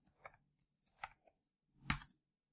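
A few quiet key presses on a computer keyboard while code is typed, in short clusters of light clicks with pauses between them.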